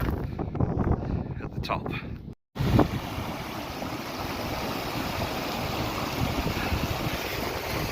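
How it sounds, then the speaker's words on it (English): Strong wind blowing outdoors at the top of a hiking path in the Cairngorms, Scotland, a steady low roar buffeting the microphone throughout, with someone talking briefly near the start. "So that wind's picking up again."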